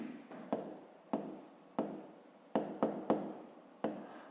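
Pen writing out a fifth-grade math exercise on paper, quiet close scratching strokes with sharp taps as the pen lands, about eight in a row, with no talk.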